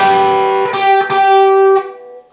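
Electric guitar lead lick from a song played around the 12th position, with a bend: sustained, bright distorted notes, a few re-picked attacks over about two seconds, close and loud with no talking.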